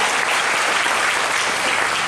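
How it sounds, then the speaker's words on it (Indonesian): Church congregation at an evangelistic revival service breaks into dense, steady applause, a broad wash of many hands clapping together throughout. "Berikan dulu tepuk tangan bagi Tuhan Yesus kita."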